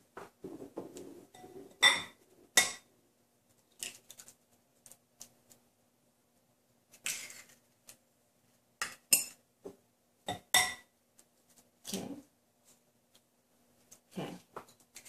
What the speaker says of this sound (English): Next, I'm going to separate my eggs.